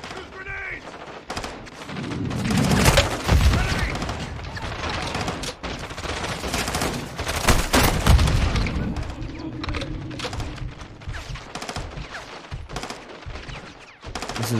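Gunfire in the shooter Modern Warfare 2, with repeated loud shots, bursts and booming impacts from start to finish, surging in clusters, with a little voice mixed in.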